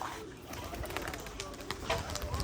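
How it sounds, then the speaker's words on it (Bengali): Pigeons at a Rajshahi pigeon farm, soft low cooing close by under faint voices and background noise, with a few light flutters and clicks. "অসাধারণ একটা পেয়ার কবুতর"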